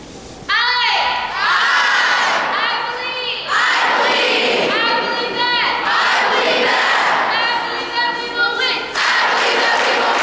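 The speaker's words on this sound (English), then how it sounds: "you guys can say this cheer with me." A crowd of children shouts an anti-bullying cheer in loud, rhythmic bursts, with several chanted phrases separated by short pauses.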